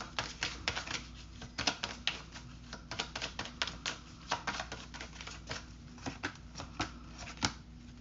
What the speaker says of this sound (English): I literally just shuffled and the same cards came out